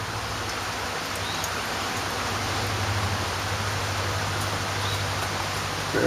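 Excess water poured off during computer-scrap gold refining makes a steady, broadband hiss of liquid pouring throughout, fairly loud and continuous, with no talking.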